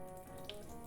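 Water drains steadily from a bowl of rinsed Japanese rice in a brief, soft, continuous pour with a faint splash.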